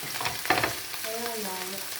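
Garfish frying in a pan give off a steady close sizzle, with a brief louder crackle burst near the start and a faint tonal hum toward the end.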